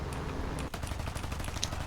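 P-40 fighter machine guns fire in a War Thunder air battle, a rapid continuous rattle of bursts over engine drone, moderately loud.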